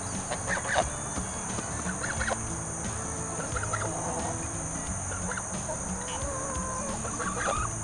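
A flock of nine new laying hens on a homestead clucking and murmuring close by, with scattered higher calls over a steady hum.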